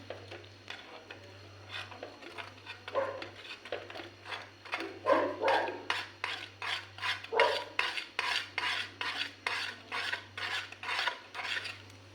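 A spoon scrapes and stirs a pot of thickening dry fruit custard in a steady back-and-forth rhythm, each rasping stroke close and clear over a low hum.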